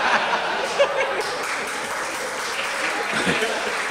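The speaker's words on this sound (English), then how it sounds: "A round of applause for our audience" Audience applause at a guitar clinic, a dense steady patter of clapping lasting the whole stretch with a few voices and light laughter mixed in.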